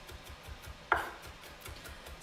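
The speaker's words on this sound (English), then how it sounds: "this should be the moment where you chop up the garlic" A knife chops garlic for Asian-style salmon cakes, giving soft, quiet, regular taps on a board, with one sharper, louder knock near the middle.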